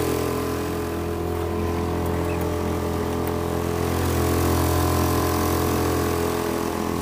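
A motorboat engine drones steadily and loudly close by, a constant unbroken hum with no talking.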